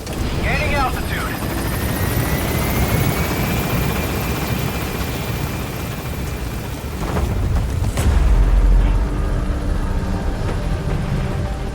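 A helicopter in the video game Metal Gear Solid 5 lifts off and gains altitude, its rotor roar loud and steady throughout, with a deeper thump near the end and brief radio voices over it.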